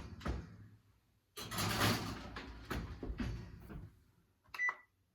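An oven door shuts on a tray of Christmas cookies, with a loud thump and clatter early on, then a broader rattle and clunk, followed by a sharp metallic click near the end in a quiet kitchen.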